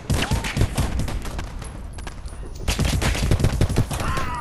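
Rapid pistol gunfire in the video game Polyfield, a dense burst of repeated shots in the first second and a half, a quieter gap, then another fast volley near the end, loud and close.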